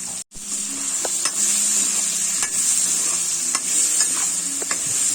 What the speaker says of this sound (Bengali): ওই তেলে দিয়ে দিলাম সাদা জিরে ফোড়ন, দিয়ে দিলাম কেটে রাখা আলু